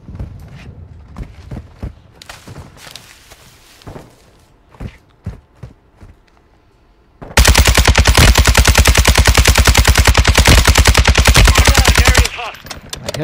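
Gunfire in the video game Call of Duty MW2: scattered single shots and footsteps, then a long sustained burst of rapid automatic fire lasting about five seconds, loud and close, with a player's voice heard briefly.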